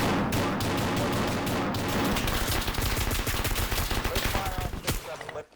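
Gunfire in the Arma military video game set in Takistan, a dense and loud stretch of rapid overlapping automatic bursts and single shots that continue for several seconds before ending abruptly.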